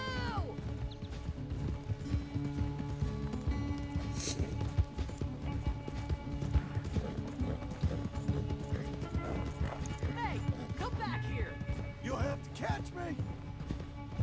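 Horse hooves clip-clopping steadily while riding in Red Dead Redemption 2, with occasional whinnies, under people talking.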